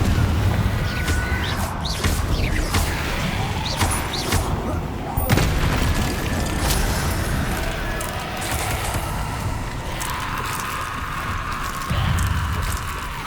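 Explosive Confringo spell blasts in Hogwarts Legacy on PS5 produce booming impacts amid a continuous wash of busy game sound, with a sharper bang near the middle.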